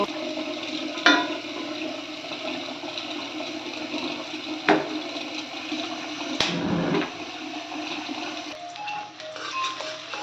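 Steady loud sizzling and crackling of onions frying in hot mustard oil, continuous throughout with a few sharp spatters and clatters.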